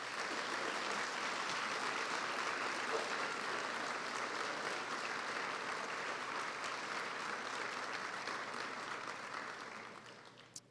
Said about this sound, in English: Let's have a round of applause for our new colleagues.